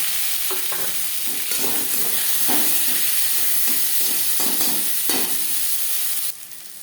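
Onion and tomato fry in oil with bay leaf and cumin for a fish curry, giving a continuous loud hiss and sizzle, with regular stirring clanks against the pan, ending in a quieter sizzle.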